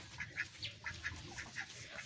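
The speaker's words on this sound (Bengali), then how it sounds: "আর আমার এই চীন হাঁসগুলো এসে গেছে, তারাও এখন ওইখানে যাবে" Chin ducks near a drain give a series of short, nasal quacks, about six or seven in two seconds, fairly close and clear over faint outdoor background, with no talking.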